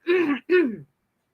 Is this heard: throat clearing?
yes